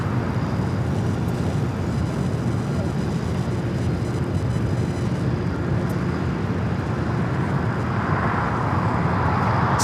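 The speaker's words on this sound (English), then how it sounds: "We also have Swiss Flight 40 about to land on 24 right" Swiss airliner landing on runway 24 right at LAX, a steady broadband jet roar that holds loud throughout, with a slight rise in higher rushing noise toward the end.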